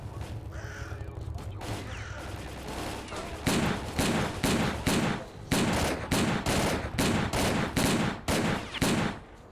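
Enemy gunfire in STALKER: Clear Sky, starting as scattered shots under background noise, then a loud burst of rapid, regularly spaced shots that keeps going steadily for the rest of the clip.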